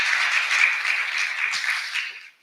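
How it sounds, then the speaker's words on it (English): An audience applauds panelists at a business conference session on disaster, recovery and resilience, a dense burst of steady clapping that fades out at the end. "So give them a round of applause"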